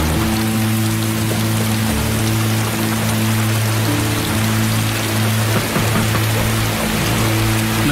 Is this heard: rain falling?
yes